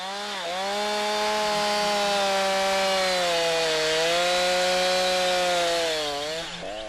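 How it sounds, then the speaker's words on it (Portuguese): A Husqvarna chainsaw bores its bar into a tree trunk while felling, the engine holding a loud, steady high whine with slight pitch dips under load, continuous and close for the whole stretch. "Force depois a lâmina na madeira."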